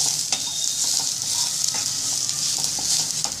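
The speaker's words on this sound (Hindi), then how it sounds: "ये देखिए, अच्छे से भुन रहा है।" Onion and turmeric powder fry in a pan for a drumstick bharta, a bright steady sizzle broken by quick scraping stirs, close and loud, with no voices.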